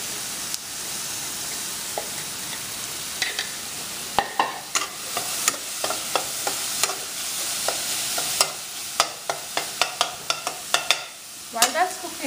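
Ginger and garlic fry in a pan for Punjabi yellow masoor dal over a high flame, a steady bright sizzle running throughout with repeated sharp scraping clicks of stirring, close up and without speech.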